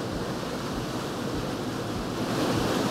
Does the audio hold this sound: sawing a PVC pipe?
no